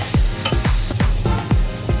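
Chickpeas with tomato and mashed potato being stir-fried alongside liver in a pan, a continuous sizzle broken by regular scraping strokes of a spatula about every quarter second.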